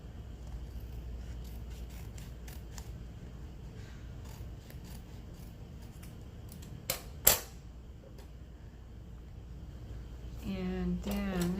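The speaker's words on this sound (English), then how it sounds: "we got a little extra edge here I need to cut off" Scissors snip off the extra paper edge of a friend journal page at a craft table, a few quiet cuts under low background noise, followed by a sharp louder snip near the end.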